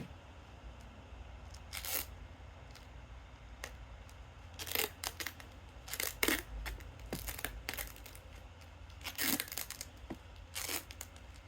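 Strapping tape is pulled and wrapped around homemade combat siege bolt ammunition, giving repeated short tearing, crinkling rips spaced a second or two apart over a low steady background hum.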